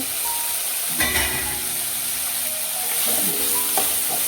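Fried potatoes are tossed into fenugreek leaves in a hot pan, giving a steady hissing sizzle with a few scraping stirs, close and loud.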